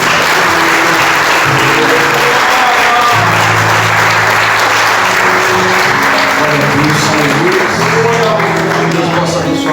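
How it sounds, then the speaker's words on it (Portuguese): A church congregation claps and cheers in sustained loud applause throughout, with voices calling out over the crowd. "Você pode aplaudir a Jesus?"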